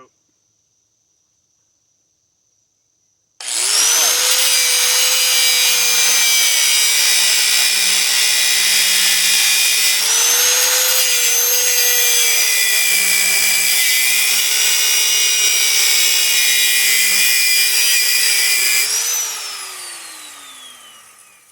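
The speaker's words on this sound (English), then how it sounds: "I keep hitting this with the grinder." Angle grinder cutting through a trailer gate, a loud, steady high-pitched whine with a slight pitch dip partway through, running continuously for about fifteen seconds after a quiet start, then winding down at the end.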